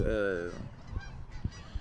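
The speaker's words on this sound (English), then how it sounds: "Little geese. What's up, geese?" Geese honk loudly at close range near ducks in the early morning, a drawn-out honk followed by a few shorter, quieter calls.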